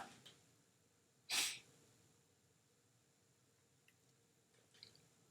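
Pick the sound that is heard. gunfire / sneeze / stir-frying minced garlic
sneeze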